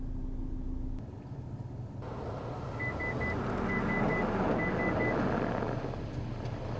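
Rear cross traffic alert in a reversing Honda Pilot, a rapid series of short electronic beeps in three bursts as a car crosses behind, over a steady engine and road rumble.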